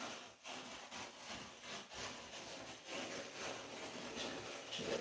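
Trim being cut off at its bottom during a rental repair, a steady rasping saw stroke sounding close and continuous for several seconds with no talking.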